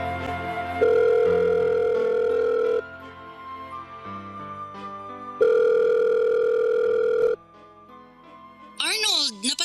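Telephone ringback tone on a call: two long, loud steady tones separated by pauses, with other tonal sounds in between, ending in a short warbling burst.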